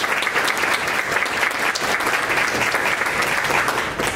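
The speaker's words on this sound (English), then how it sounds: "Let's give them a round of applause" An audience at a school board meeting applauds students placed first through third, a dense, steady round of clapping holding at even loudness for the whole stretch with no voices on top.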